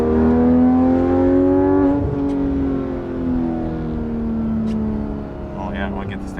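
Porsche 991.1 GT3 RS engine with no side or center mufflers, revving loud and close with a sustained high-pitched howl that drops off and settles into a steady drone.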